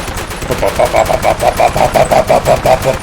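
Fallout 4's Peppermill Crank Gun firing at maximum rate, a loud, steady stream of rapid shots at a regular, rattling cadence without pause.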